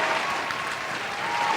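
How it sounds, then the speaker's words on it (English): An applause sound effect played on a podcast celebrating a championship win, a short, even burst of crowd clapping that stays steady throughout. "Let me get the round of applause shit."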